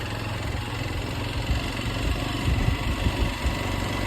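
A motorcycle engine hums steadily on a rough road in the evening, a constant low rumble with slight surges, fairly close and heard alone without voices.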